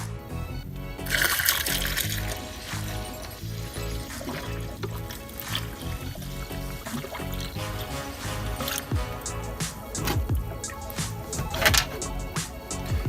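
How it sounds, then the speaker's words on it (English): Distilled water and Water Wetter coolant additive are poured into a car's cooling system, giving a steady trickling, gurgling flow with occasional splashes, close and moderately quiet, alongside faint background music. "So I poured a half a gallon, did the first bottle of water wetter."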